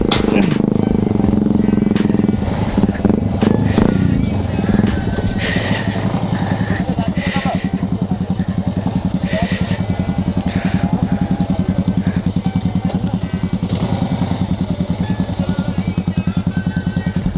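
A Bajaj Avenger motorcycle engine runs steadily at close range, a low rhythmic thrum with rattling clatter, loudest at the start then settling into an even idle-like chug.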